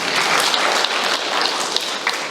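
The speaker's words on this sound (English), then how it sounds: "Okay, give yourself applause." Attendees at a professional career forum and job fair clap together in a short, close burst of applause, busy and fairly loud with a few sharper individual claps standing out.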